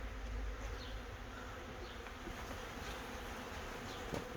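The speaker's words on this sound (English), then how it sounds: "There's definitely a swarmy swarm going in there then." A honey bee swarm pours into a bee house, its dense, steady buzzing holding at an even low level throughout with no voices.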